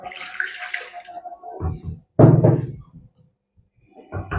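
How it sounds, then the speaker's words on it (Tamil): Water poured into a pot of nellikkai (gooseberry) rasam in a home kitchen, heard as a splashing pour, then a louder gush midway, then a brief further trickle after a pause. "இப்போ அந்த தண்ணி கொஞ்சம் சேர்த்துக்குவோம்."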